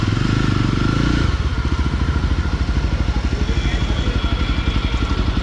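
A 2022 Yezdi Roadster motorcycle engine runs steadily up close, its low, rapid firing pulses throbbing evenly throughout with a slight rise in revs at the start.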